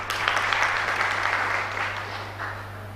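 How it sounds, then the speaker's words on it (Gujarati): A crowd of students and listeners at a primary school library talk applauds a student's question, with a steady, moderately loud patter of many hands that slowly tapers off, over a low constant hum. "સૌથી પહેલાં તો એમને પ્રશ્ન પૂછ્યો એટલે તાળીઓ તો એના મારે"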